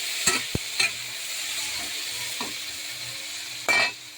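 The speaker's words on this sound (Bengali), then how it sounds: "মাছের তেলটা ভাজা হয়ে গেছে, এবারে আমি বেগুনগুলো কাঁচা লঙ্কা চেরাতে দিয়ে দিচ্ছি" Eggplant and slit green chillies frying in fish oil in a pan, a steady soft sizzle with a few sharp stirring scrapes and clacks, close and alone without talk.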